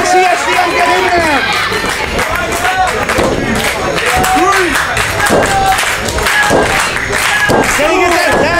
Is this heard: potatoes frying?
no